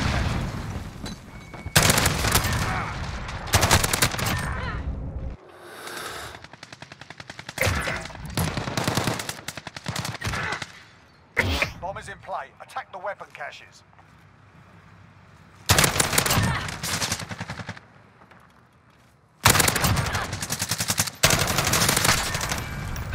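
Rapid bursts of Holger automatic rifle fire in a Search and Destroy video game match, loud close rattling volleys separated by short pauses, with some quieter distant shots between bursts.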